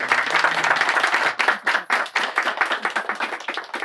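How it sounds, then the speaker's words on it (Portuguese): Loud audience clapping at a Feira Preta event, a dense burst of applause that thins into separate, distinct claps in the second half. "Palmas, por favor, aqui."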